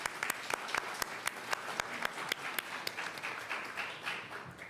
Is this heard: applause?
yes